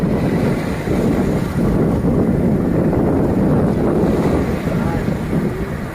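Surf rolling in on a sea beach near Kolkata: a steady, loud, broad roar of breaking water that fills the whole stretch, with wind buffeting the microphone throughout.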